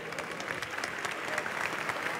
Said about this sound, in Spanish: Sí, señor, un aplauso muy fuerte.